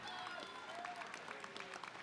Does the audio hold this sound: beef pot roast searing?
no